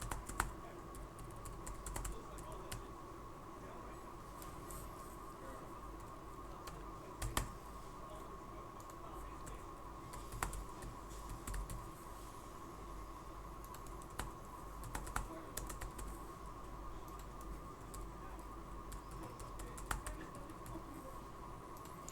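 Computer keyboard keys being typed while a username is created on an online immigration application form, steady soft clicking with occasional louder taps over a constant background hum, no voices.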